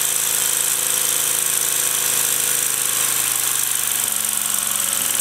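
A gas-fired Mamod SP7 stationary model engine runs steadily, giving off a rapid, even mechanical chatter that stays loud and close throughout, with no voices.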